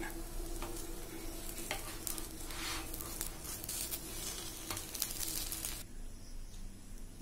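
Masala dosa fries on a hot griddle with a steady, close sizzle and crackle that runs throughout, turning slightly softer near the end.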